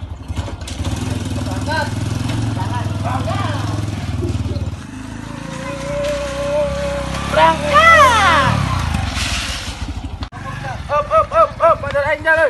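A motorcycle engine idles with a steady low rumble, then revs and pulls away, the pitch climbing and falling through several revs, while people talk and call out over it.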